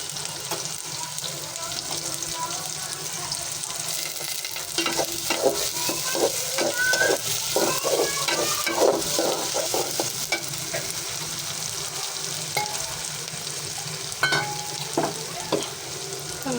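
Food frying in hot oil in a home kitchen, a steady, close hiss and sizzle with occasional stirring scrapes throughout, and faint voices in the middle.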